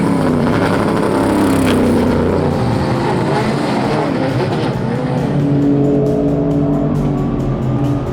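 Cadillac DPi prototype race car in a racetrack pit lane, its engine roaring loud and close throughout with shifting revs and a steady dense mechanical drone, no talk over it.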